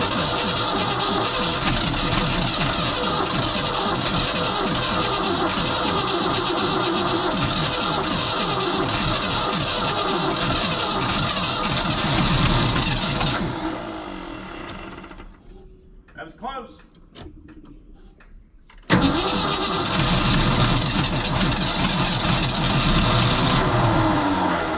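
An old crane truck bought at auction, long idle, cranks and fires with a loud steady engine roar, drops to quiet rattles for a few seconds, then bursts back to full running.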